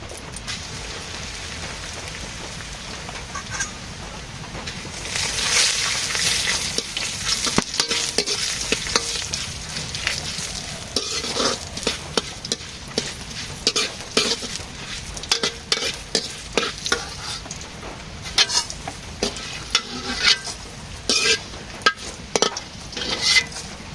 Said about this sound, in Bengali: চিরা ভাজি খাবো